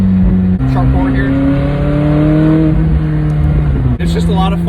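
A McLaren 600LT Spider engine roars loudly through downshifts, with sharp pitch drops and rising revs between shifts, and a voice talks over part of it.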